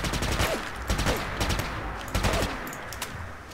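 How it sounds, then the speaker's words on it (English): A silenced laser RCW energy submachine gun from Fallout: New Vegas fires in rapid bursts of sharp, loud shots with zapping descending tones, stopping and starting several times over a few seconds. "The silencer has its own sounds, like I said, so I'll let you hear that now."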